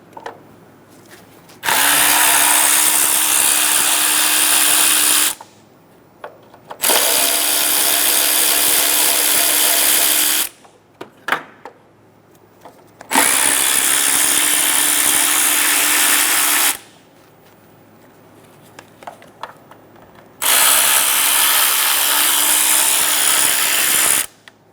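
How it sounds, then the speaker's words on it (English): A powered 10mm socket driver removes top cover bolts on a 2003-2007 Honda Accord engine, whirring loudly in four long bursts of several seconds each, separated by quiet pauses with small clicks and handling noises. "Using a 10mm socket, we're going to remove all of the bolts for the top 2 covers"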